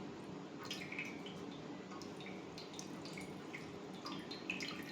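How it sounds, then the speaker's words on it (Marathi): Water drains and drips from pressed curd in a strainer, a faint steady trickle with scattered small drips throughout. "असं थोडंसं हाताने जरी दाबून घेतलं तुम्ही तर याचं पाणी पूर्ण निथळून जातंय."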